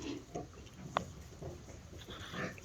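Young weaning pigs in a pen give short, scattered oinks and grunts at close range, with rustling and movement between the calls.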